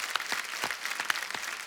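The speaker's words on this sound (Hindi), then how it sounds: "तो हमारे डॉक्टर्स के लिए एक बार जोरदार तालियां।" Studio audience on a Hindi comedy talk show applauding in honour of doctors fighting COVID-19, a brief burst of dense, steady clapping with a few sharper claps standing out.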